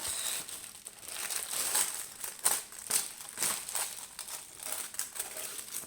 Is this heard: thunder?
no